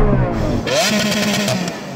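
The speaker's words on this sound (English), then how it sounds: "Rev up your engine, Yanni. Are you in sports mode? Corsa." Lamborghini Aventador SV engine revving in Corsa mode, a loud close-up roar that climbs sharply in pitch and holds near the top for a brief burst.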